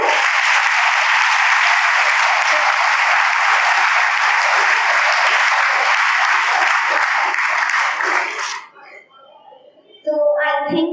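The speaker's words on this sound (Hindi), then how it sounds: "एक बार जोरदार तालियां बजाएं।" Applause from a large school audience, a dense, steady roar of clapping that runs strongly for about eight seconds, then cuts off abruptly and gives way to faint murmuring and a brief tonal sound.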